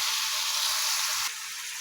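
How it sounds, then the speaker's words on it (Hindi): Ground spices with chilli powder and turmeric frying in a pan, a steady loud sizzle and hiss close up that eases slightly near the end. "सारे मसाले को अच्छी तरह से भून लेंगे।"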